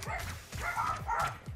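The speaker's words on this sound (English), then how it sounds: "Lots of dog barking." Several dogs bark and yip in quick, overlapping bursts, close and fairly loud, with short gaps between the barks.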